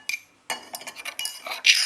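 Kanda bhaji, crisp onion fritters, being moved onto a plate, with sharp metal cutlery clinks and scrapes against the dish in quick, close bursts after a short pause.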